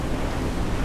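Stormy sea waves in the game Assassin's Creed Rogue, a steady loud wash of surf and wind-driven water, broadband and continuous with no pauses.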